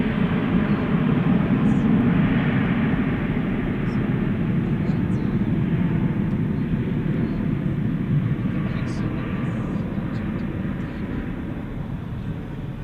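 An American Airlines Airbus A320 from June 2000, bound for Des Moines, runs at DFW Airport at night with a steady, loud jet-engine rumble and hiss that fades slightly toward the end, with a voice talking over it.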